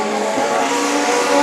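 A Legend Cars race car spins out, number 25, with a sustained loud tire squeal and skid blended with engine roar, brief and close.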